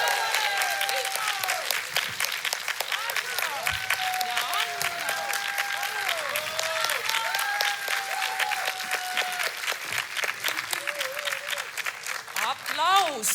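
An audience claps steadily through a sustained round of applause at a song festival in Narva, under a host's voice and singing voices.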